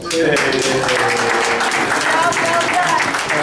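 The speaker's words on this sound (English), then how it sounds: "We give the daddy a nice applause." Audience at a bris ceremony breaks into steady, dense applause that carries on under a voice speaking over it.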